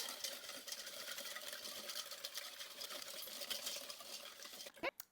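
Just Egg and sugar being beaten together in a bowl, a quiet continuous whirring and scraping of a whisk against the bowl, ending in a couple of sharp knocks.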